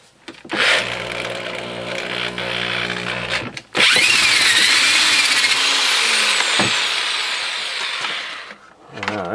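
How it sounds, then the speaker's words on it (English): A corded drill spins up loudly while drilling out a broken bit on a 1970 Honda Z50, a brief whine followed by a strained, grinding run that dips, rises again and bogs near the end. "we're gonna get out a corded drill and see if we can get that"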